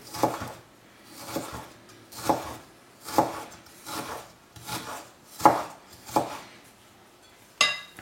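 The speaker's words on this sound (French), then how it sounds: "on vient découper des petits bâtonnets" A knife chops raw beef on a cutting board into small sticks for Asian-style tartare. The strokes are steady and evenly spaced, each with a close, firm thud, and one last quicker tap follows. No one speaks.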